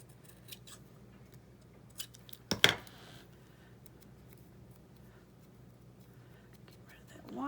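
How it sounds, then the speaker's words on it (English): Scissors cutting fabric scraps in a quiet craft space, a brief close snip-and-slice burst in the middle among faint handling sounds and soft background noise. "Let's get this cut better."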